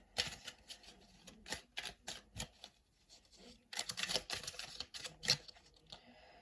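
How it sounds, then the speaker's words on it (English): A deck of cards from a box of tarot or oracle cards being shuffled by hand, close and soft, in rapid irregular riffles and flicks with brief gaps between bursts. "I'm going to get a deck big enough to shuffle from this box of cards that I have."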